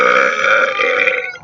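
A long, loud, close burp rolls out as one sustained throaty belch lasting over a second, fading at the end, with no talking over it.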